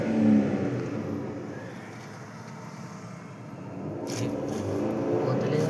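A car driven by a learner revs as it accelerates, its engine rumbling low and swelling near the start and end, with voices talking over it.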